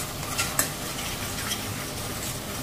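A spoon whisks curd smooth in a bowl, giving a soft, continuous scraping and clinking with a few brighter taps, close but fairly quiet, while a masala cooks beside it.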